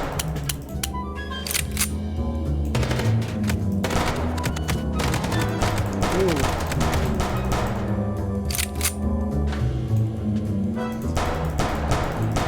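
Gunfire in the noir game Chicken Police: dense, continuous shots and sharp cracks over a busy action soundscape, loud and sustained throughout.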